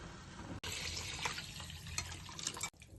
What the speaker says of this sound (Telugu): 8 గ్లాసుల వాటర్ వేసుకోవాలి.